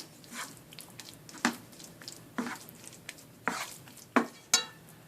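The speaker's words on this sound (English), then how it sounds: "We're going to stir it through and then immediately remove it from the heat so it doesn't melt onto the pan." A spoon scrapes and knocks against a skillet while shredded cheese is stirred through a low carb salchicha skillet, giving several separate clinks and scrapes at an uneven rhythm, close by and fairly quiet.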